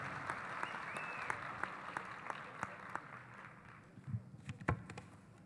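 Audience applause at a Portuguese-language international seminar panel, steady dense clapping throughout that thins toward the end into a few louder individual claps, with faint talk beneath.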